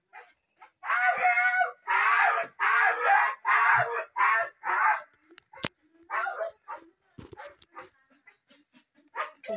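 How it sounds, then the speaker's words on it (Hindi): A dog whines and cries in long, wavering, high-pitched wails, several drawn-out bursts in a row followed by shorter broken whimpers, close and loud with no other sounds. The setting is a trip to Kausani in Uttarakhand. "देखो चारू की याद में कितना रो रहा है वो, कितनी याद आ रही है उसको"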